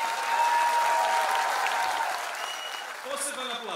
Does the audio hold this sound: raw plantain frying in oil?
no